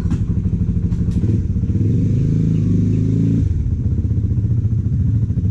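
A Rusi Flash motorcycle idles and runs close by, its engine a steady low rumble with some clatter, the pitch swelling briefly mid-clip before settling back.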